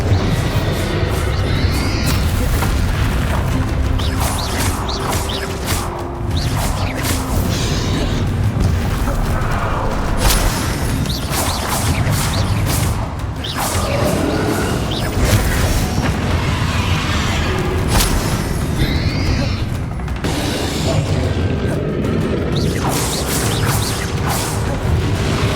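Bombarda spell blasts in the video game Hogwarts Legacy, repeated heavy booms and crashes over a loud, continuous battle din with music, dense throughout.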